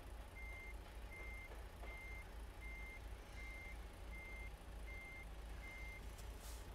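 Truck in American Truck Simulator backing up, its reversing alarm beeping in a steady, even rhythm of about eight tones over a low engine rumble.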